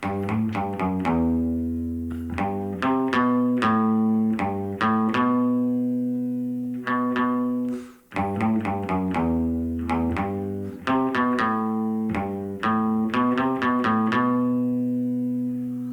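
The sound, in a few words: electric guitar solo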